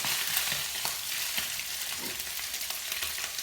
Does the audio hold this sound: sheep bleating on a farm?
no